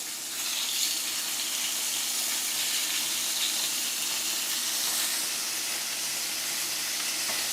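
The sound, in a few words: meat sizzling in a pan, skin side down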